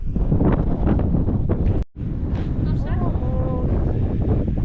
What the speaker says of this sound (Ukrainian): О, вітром вже задало.